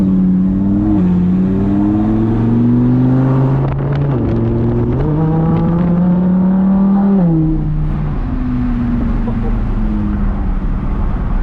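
A Lamborghini fitted with a straight-pipe exhaust revs loudly on a street test drive, its engine note climbing and dropping through several rev sweeps over a continuous close roar.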